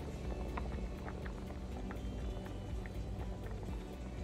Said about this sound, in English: we're making a tripe and beef cook up. So it's on the stove bubbling here.